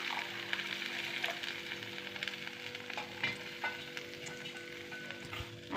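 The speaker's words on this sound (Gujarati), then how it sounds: "મસ્ત મજાનો વઘાર થઈ ગયો છે" A spice tempering of cumin, chutney, turmeric and jaggery for a fenugreek-leaf curry sizzles steadily in a pan. The soft frying hiss carries scattered small crackles, heard up close without any talk.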